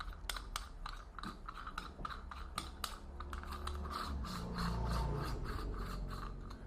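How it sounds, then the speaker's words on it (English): A metal flange on a light bulb housing is twisted loose, giving a quiet run of close, rapid clicking and scraping ticks with a faint grinding rub underneath, and nobody speaking. "There's like a flange of sorts that unscrews here"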